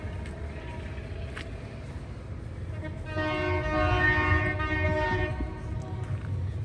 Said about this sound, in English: There's a lot of that train honking going on around here.